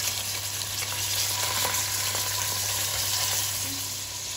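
Veal sizzling and frying steadily in a hot pan as the meat is turned, a continuous close crackle with faint scraping, no talk.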